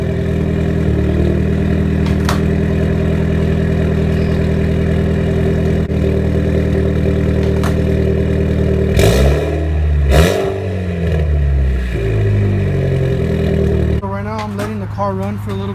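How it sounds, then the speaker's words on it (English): A Mitsubishi Lancer Evolution X runs after a hard, struggling start, its engine humming loud and close at a steady idle, then shifting and surging unevenly partway through before settling again. "the car like struggled to turn on, and I'm just gonna leave it running for a little bit"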